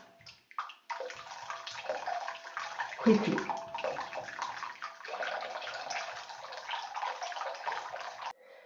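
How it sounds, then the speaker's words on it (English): Water is poured into wet-mounting glue for mounting artwork on rice paper and stirred, giving a steady close splashing, sloshing wash with a brief thump midway and a short spoken word. "So I will first add a little hot water just to bring the temperature up. And then more water and stir"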